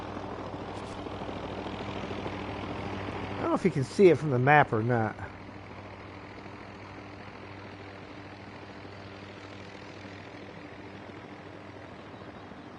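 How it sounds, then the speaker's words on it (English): A helicopter hovers above a base, producing a steady low droning hum throughout, with a person speaking briefly over it partway through. "there's a helicopter hovering up above the base"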